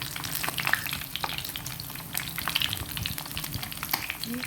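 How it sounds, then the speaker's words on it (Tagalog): Chicken feet fry in a pan, giving a close, busy crackle and sizzle with scattered sharp spatters, steady from start to finish. "Chicken fry."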